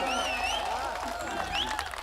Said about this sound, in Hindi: थोड़ा तालियां हो जाए जोरदार